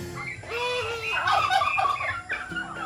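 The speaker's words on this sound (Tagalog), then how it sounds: "yan na yung pabo." A turkey gobbles loudly and close by in a rapid, warbling burst, followed by a shorter second gobble.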